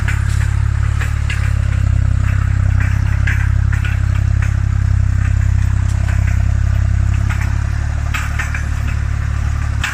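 A Tümosan 260 tractor engine runs steadily and loudly at close range while pulling a cultivator, a constant deep throbbing with light clattering and small shifts in tone over ten seconds.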